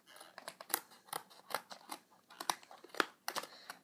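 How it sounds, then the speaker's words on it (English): Scissors snip through plastic toy packaging for Littlest Pet Shop Teensies figures, a quiet run of quick, irregular cuts and clicks close by. "Got my trusty scissors."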